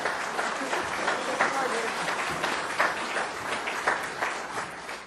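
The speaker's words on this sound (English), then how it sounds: "Can we have another round of applause for both our winners, Mark and Alan?" Audience applause for farm award winners at an agricultural awards ceremony, a steady dense round of clapping from a crowd lasting throughout, with some voices mixed in underneath.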